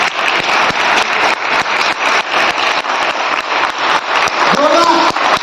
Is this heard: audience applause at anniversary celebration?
yes